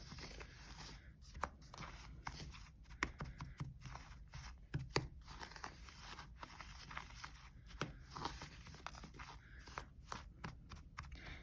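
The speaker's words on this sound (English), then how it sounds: "I like to chop up the clumps so that I can incorporate or mix in more of the powder." Salt dough clumps being chopped up in a bowl, a run of quiet, irregular tapping and crunching strikes with no talking.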